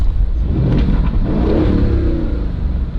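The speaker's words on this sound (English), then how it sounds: "Rev it a couple times." An Aston Martin Vantage engine in Sport Plus mode revs up loudly and holds a strong, throaty roar close by, the pitch rising and settling over a few seconds with no talking.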